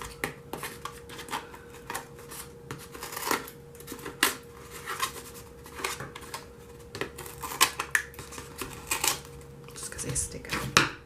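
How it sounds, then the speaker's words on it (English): Quick snipping and rustling of paper as scissors cut paper corners for a paper rose, several short crisp cuts in bursts, close by, with a steady background hum throughout. "Grab your scissors and cut them."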